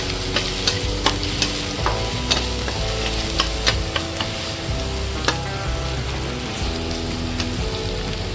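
Soaked chana dal and cabbage sauté in a hot pan, giving a loud, steady sizzle and crackle. Scattered sharp ticks and pops run through it from start to finish, with no voices.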